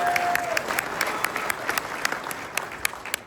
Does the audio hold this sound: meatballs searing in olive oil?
no